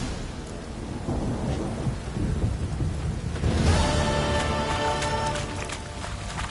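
Steady heavy rain pours down in The Witcher 3: Wild Hunt, with a low rumble of thunder building midway, a continuous dense wash of sound with no voices.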